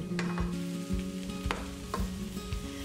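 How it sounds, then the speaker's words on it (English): Hungarian sauerkraut and sausage sizzle steadily in a pan while a spoon stirs it in a few close, distinct strokes, under soft background music. "Over low heat, cover pan and stir often, and cook for 30 minutes."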